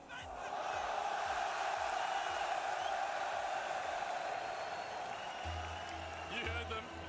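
A home crowd at an RLCS Worlds Rocket League watch party roars in a sustained, dense wall of cheering and shouting, with a deeper rhythmic chant or stomping entering near the end.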